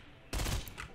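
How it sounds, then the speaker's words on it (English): A single Intervention sniper rifle shot in Fortnite, one sudden sharp blast with a short ringing tail, loud against a quiet background and with no talking. "It was an intervention shot."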